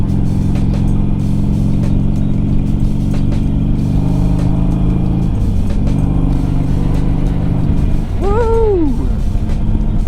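Motorcycle on a winter ride in South Dakota, its engine droning loud and steady up close with wind rush, the pitch dipping midway, and a voice cheering near the end.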